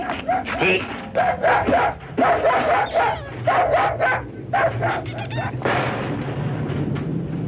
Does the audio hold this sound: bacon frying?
no